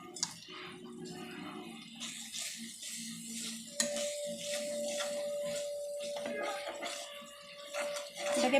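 A spoon stirring Kashmiri chili powder into spices in a pan, with soft scraping and a faint sizzle, plus a sustained high whine partway through.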